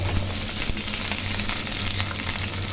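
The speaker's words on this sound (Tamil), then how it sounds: "இது மூணுத்தையும் நம்ம எண்ணெயில் போட்டு வதக்கிக்கலாம்" Onion, dried red chillies and tamarind sautéing in hot oil in a kadai, a steady close sizzle with light stirring, no talk, while a dosa batter mix is prepared.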